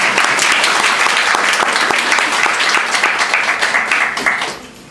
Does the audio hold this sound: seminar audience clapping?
yes